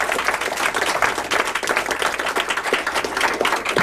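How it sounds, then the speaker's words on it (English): An audience at a book talk and signing on the U.S. military's paranormal program applauds the author, dense, fairly close clapping from a modest crowd, steady and unbroken for several seconds without speech. "You can applaud, it's fully acceptable."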